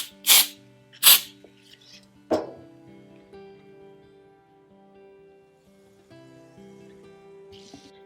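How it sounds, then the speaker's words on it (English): Two short, sharp hissing sprays from an aerosol can of spray adhesive, then a third fainter burst, in an otherwise quiet room with low background tones. "I'm just going to use some spray adhesive"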